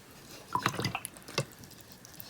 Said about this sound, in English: giving it a bit of a wet and then I'm drying off the water